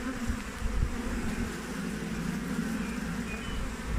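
A honeybee colony buzzes steadily inside a hive during a rescue, a dense continuous hum at close range with a low rumbling undertone and no talk.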